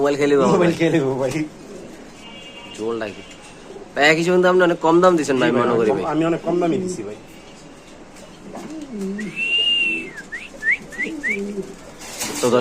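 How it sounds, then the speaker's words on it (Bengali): Pigeons, including a grizzle beauty female, coo softly in the background while people talk nearby at a pigeon sale, with a few brief whistling chirps toward the end. "এখানে আছে এক পিস কবুতর"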